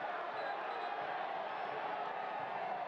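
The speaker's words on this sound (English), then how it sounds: "this is a raucous crowd here at Isotopes Park" A raucous soccer crowd fills Isotopes Park during a New Mexico United versus Portland Timbers 2 match, a steady, distant wash of crowd noise with no distinct cheers standing out.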